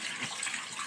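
Running water splashes steadily as sweet potatoes are washed in a basin or sink, a close, continuous wet rush with no talking.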